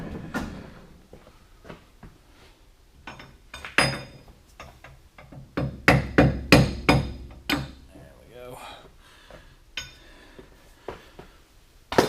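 A hammer tapping on locked tooling in a horizontal boring mill setup: a run of sharp metallic knocks, loose at first and then a quick close cluster, with quiet shop background and a few faint clunks.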